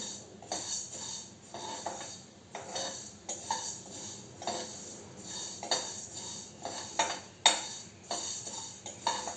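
Ingredients dry roasted in a pan without oil for vusiri kaya (gooseberry) kharappodi, with repeated scraping and clinking of a spoon against the pan in an uneven rhythm throughout, fairly quiet and close.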